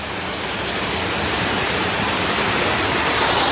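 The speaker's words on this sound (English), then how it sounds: "And the water is absolutely raging." Fast, turbulent alpine river water near Grindelwald, Switzerland, overflowing its banks, roars in a loud, dense, unbroken rush, close by and steady throughout, with no voices.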